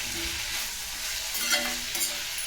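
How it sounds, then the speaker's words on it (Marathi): Sliced bitter gourd frying in hot oil for a long, slow fry, giving a steady soft sizzle with faint stirring scrapes near the middle and end, no voices. "खूप उशीर फ्राय करायचं आहे कारले तेलामध्ये."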